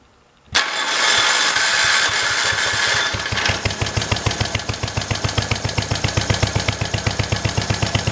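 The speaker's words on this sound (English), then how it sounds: "This motor honestly runs real good. It's a good little engine." A 1968 Kohler engine on a 112 garden tractor catches after a brief silence, roaring loudly at first, then settling into a steady, close, rhythmic idle chug with regular firing pulses.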